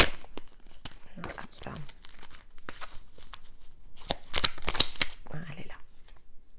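A deck of tarot cards is gathered and shuffled by hand, producing close, crisp riffles and papery flutters in repeated bursts, with soft French speech in between.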